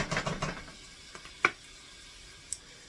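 Hamburger meat cooks in a pan, a faint sizzle with soft stirring scrapes near the start, then quiet stretches broken by a couple of sharp utensil ticks against the pan.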